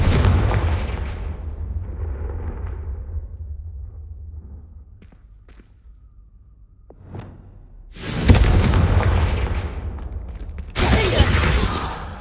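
Booming spell blasts and explosive impacts erupt in Hogwarts Legacy on PS5, a heavy rumbling blast fading out, then two sharp loud bursts later, with no talk over them.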